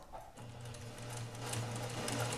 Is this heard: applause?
no